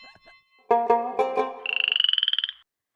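A frog croaks loudly up close, several deep pulses followed by a rapid trilling rattle, then silence.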